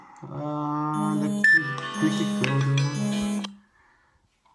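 An alarm gives a series of bright, tonal electronic beeps with shifting pitches for about three seconds, then stops. Someone talks quietly over it.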